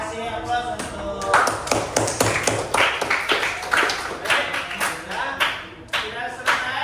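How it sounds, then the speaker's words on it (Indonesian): Classroom applause during a coding lesson on computational thinking with Scratch, a short burst of hand clapping from a group that rises, stays steady and tapers off over several seconds. "Oke, kasih aplaus untuk"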